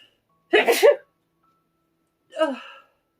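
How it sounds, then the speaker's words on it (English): A single loud sneeze close to the mic, then a breathy exhale or sniff a second later, with silence around them. "I think I'm going to sneeze"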